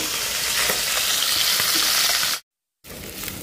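Rohu fish sizzles steadily in hot oil in a kadai, a loud continuous crackling fry that cuts out briefly and then resumes.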